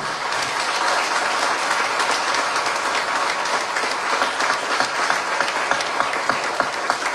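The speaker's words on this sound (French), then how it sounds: "je vais vous demander s'il vous plaît des applaudissements bien nourris" An audience claps in sustained, dense applause, a thick patter of many hands that holds steady from start to finish.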